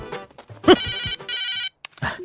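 A phone ringtone sounds in short bursts of bright repeating tones, loud and close, broken by brief gaps, with other sounds between the rings.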